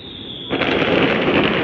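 Firecrackers go off around a house on the last day of Chinese New Year, a sudden loud burst breaking after a brief whine and continuing as a dense, crackling roar nearby.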